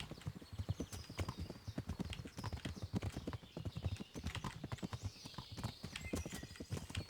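Horse hooves clip-clop steadily in the medieval game Kingdom Come: Deliverance, a quick, even trot of close, crisp hoofbeats with a faint whinny and ambient birdsong over it.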